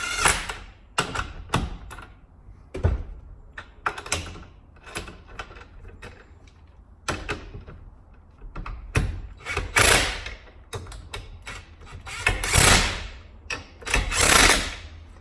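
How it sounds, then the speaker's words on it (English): An impact wrench with a socket snugs down a switch barrel in rapid, sharp hammering bursts of varying length, loud and close, with short pauses between the rattling runs. "I use a good old impact wrench. I've got my socket on there, and we're just going to snug this down"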